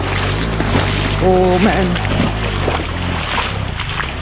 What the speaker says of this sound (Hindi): तो ये बाइक इस डीप पानी में गई